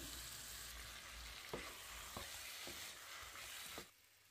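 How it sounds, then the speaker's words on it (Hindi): Pre-cooked chicken, fried earlier in oil, is added to a hot masala for chicken tikka curry and sizzles in the pan. A few soft knocks of the spoon punctuate a steady frying hiss that drops away near the end. "अब हम इसमें चिकन डाल लेंगे जो चिकन हमने तैयार करके रखा है जिसे हमने ऑयल में पका लिया था"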